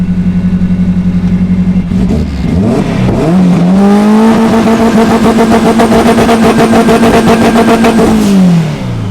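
A turbocharged race car holds a steady loud buzzing rev on launch control, then its engine note sweeps upward and stays high and strained for several seconds before dropping off, very close and with no talk.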